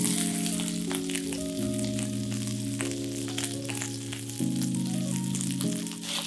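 Chicken saltimbocca fries prosciutto side down in olive oil and unsalted butter, with loud, dense crackling sizzle running steadily throughout under a background of sustained musical tones, and no talking.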